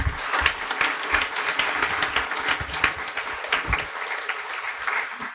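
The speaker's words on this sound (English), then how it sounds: "I'd like you to give the class a round of applause" An audience at a guide dog school graduation applauds the graduating class, dense steady clapping at close range that carries on for several seconds before thinning toward the end.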